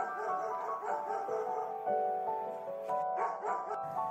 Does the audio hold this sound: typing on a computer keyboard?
no